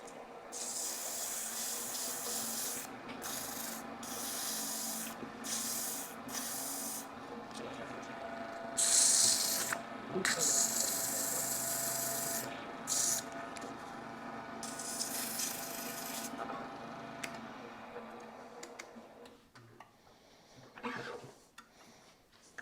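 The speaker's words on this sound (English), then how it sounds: "we'll hit it with a little bit of sandpaper" Sandpaper rubs a wooden Christmas tree branch turned on a lathe, a steady close hiss with short breaks and repeated strokes, and the lathe hums underneath throughout.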